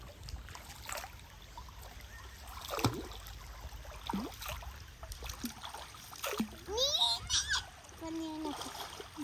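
A baby splashes in a shallow stream, with intermittent watery splashes and trickling close by while an adult voice speaks over the water.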